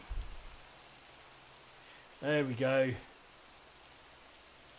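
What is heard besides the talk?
rain falling in the video game Minecraft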